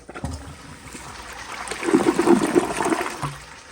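A 2018 American Standard Townsend Vormax toilet flushing a grocery bag, a quick clunk of the handle followed by a loud rushing swirl of water that builds, drains and then settles into a refilling trickle.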